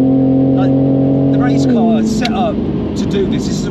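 Tuned road car driven flat out on the Nürburgring, a loud engine drone that shifts pitch mid-clip as it pulls hard, with voices talking over the steady roar throughout.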